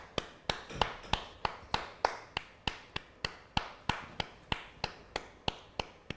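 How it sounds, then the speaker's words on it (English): Rhythmic clapping during a minute's applause at a Liverpool football match, sharp, evenly spaced claps about three per second, each ringing briefly, continuing steadily throughout. "it's a minute's applause for the 97 fan who, of course, passed away"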